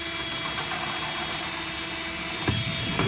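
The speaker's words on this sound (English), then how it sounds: "just using a drill" Power drill boring holes through a plastic kiddie pool for a raised garden bed, a steady whining motor drone running throughout at close range, with a brief knock partway through.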